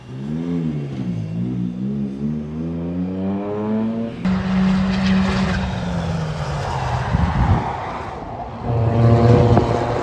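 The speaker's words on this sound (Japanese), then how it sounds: "さあ、マッチさんの水素エンジン2度目の走行、さあ今コースイン、" A Toyota hydrogen-engine race car entering the track at Fuji during the Super Taikyu 24-hour race revs up through climbing engine notes, then surges louder and harsher as it accelerates, with rising shifts repeating toward the end.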